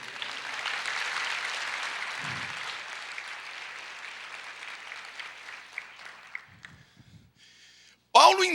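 Church congregation applauding together, a broad wash of clapping that holds steady for several seconds, then thins and fades as a few voices murmur near the end.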